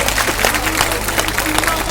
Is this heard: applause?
yes